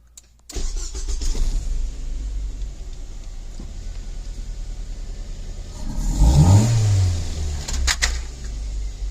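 A car in a project build is started and left running, a steady engine drone with a louder revving surge midway, close and alone with no talk.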